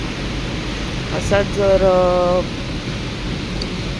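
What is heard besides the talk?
heavy monsoon rain in Mumbai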